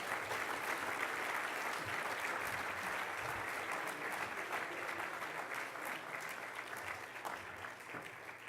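Sustained applause from a large audience at a hall of fame ceremony, a dense, even roar of clapping that holds steady throughout and fades slightly toward the end.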